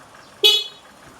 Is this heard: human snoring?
no